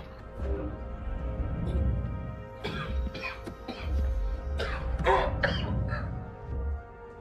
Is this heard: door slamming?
no